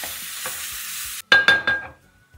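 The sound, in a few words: stirring onions with ginger-garlic paste and turmeric in a pan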